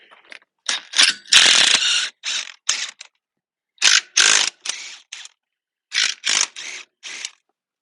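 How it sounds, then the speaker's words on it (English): Rapid ratcheting bursts from a power tool loosening 17 mm nuts on the swing arm bolt of a Honda CRF300L motorcycle, several loud close rattling bursts separated by short pauses, no talking. "With the impact, should be able to take the nuts off the other side without having to hold this side."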